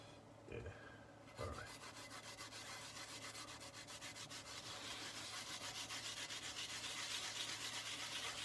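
Garlic rasped against a kitchen grater in steady, quick back-and-forth strokes, close and fairly quiet, while Japanese braised pork and ginger is being prepared.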